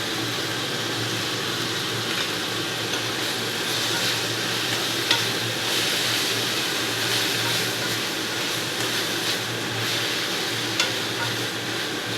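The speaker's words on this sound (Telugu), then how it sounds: "ఫ్రై అయిందండి ఇప్పుడు మనం పుదీనా వేసుకుందామండి" Mint leaves frying in a pan for a coriander and tomato chutney, a steady close sizzle with occasional stirring scrapes running continuously throughout.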